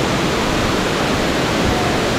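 Steady broadband roar of a waterfall near a temple, heard close and loud, with dense rushing water noise continuing unbroken and no voices.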